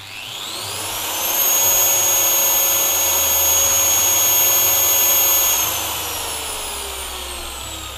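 Bosch 125 mm power tool with soft start spinning up gradually to a loud, steady high-pitched whine, holding for several seconds, then winding down smoothly as the motor coasts to a stop.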